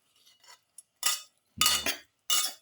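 Utensils clink and scrape against a dish while ingredients are mixed onto Japanese quail, a few separate close bursts of clattering with short pauses between them.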